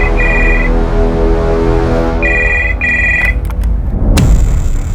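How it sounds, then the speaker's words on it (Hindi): A telephone rings for a call in a crime drama, two or three short electronic bursts over a steady music bed, loud and close, ending in a sharp click. "जबलपुर इस प्रेरणा पाल को फोन करते हैं"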